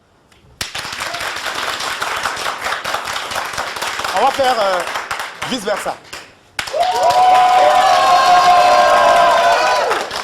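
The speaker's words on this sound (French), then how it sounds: "Bon, applaudissez pour eux." A TV studio audience claps, cheers and shouts loudly for several seconds, then a short talking pause follows before a second burst of crowd cheering and whooping.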